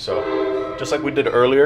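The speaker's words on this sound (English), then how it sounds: "sorry about the train, but just like we did earlier," A passing train sounds a long, steady horn close by, with someone talking over it during a car suspension job in a garage.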